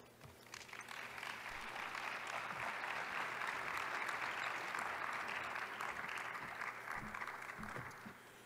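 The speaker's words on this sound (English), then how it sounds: "You don't have to be so polite in your applause." Sustained applause from a large audience at a plenary session of the 15th World Forest Congress, a dense, steady wash of many hands clapping that swells, holds for several seconds, then eases slightly near the end.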